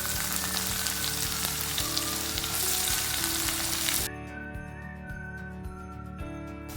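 Coriander seeds, cumin and chopped onion frying in a pan, with a loud, dense sizzle that drops noticeably partway through, faint stirring scrapes and a thin whistle-like tone above it.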